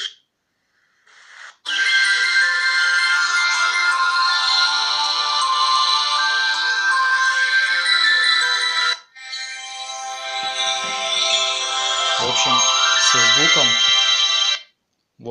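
A loud, bright ringtone melody plays from a Star N8000 smartphone's non-rattling loudspeaker in two long bursts, with a brief pause between and a voice speaking near the end.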